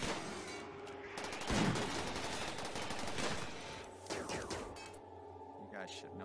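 Gunfire crackles in the colony-building game RimWorld, dense bursts of shots overlapping with a burst around the middle and scattered shots later, all under continuous talk.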